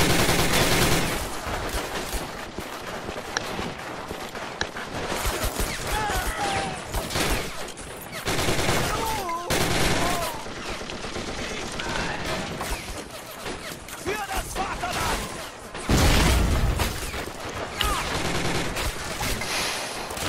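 Machine gun covering fire in the war game Men of War Assault Squad 2, with dense, loud bursts of automatic gunfire and scattered shots that continue almost without pause, mixed with explosions and battle noise.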